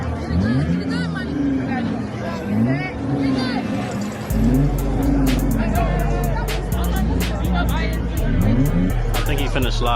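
Car revving and sliding at a car meet with a legal pit, engine roaring loud and close amid a chattering crowd, with bursts of tire noise and someone talking over it.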